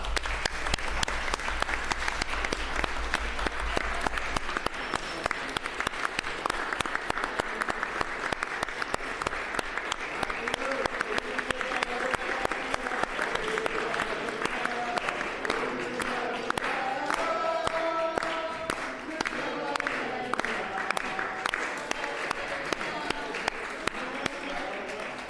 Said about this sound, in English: Let's give Peter a big round of applause.